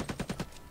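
Punisher firing a gun in the Marvel Heroes 2015 video game, four quick evenly spaced shots in a short burst, moderately loud, then fading into quiet game background.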